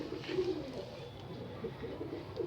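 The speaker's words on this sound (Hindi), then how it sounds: "इस तरह के पेवर मलबई कबूतर होते हैं।" Several Malwai pigeons, a pure breed kept at a pigeon shop, coo in low repeated murmurs that overlap through the whole stretch, fairly close and steady, with no voices over them.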